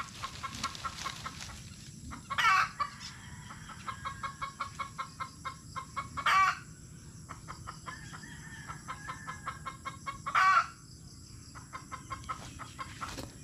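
Hens clucking steadily in quick repeated pulses, broken by three sharp louder squawks, set against a constant low hum of the farmyard.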